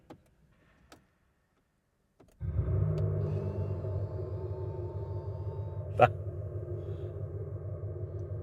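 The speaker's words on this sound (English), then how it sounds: "There's a speaker just underneath the rear bumper that pumps out sound." After a couple of faint clicks and a short silence, an Abarth 500e electric car's synthetic engine sound from a speaker under the rear bumper starts up: a steady, low, buzzing drone held alone, with one brief sharp click partway through.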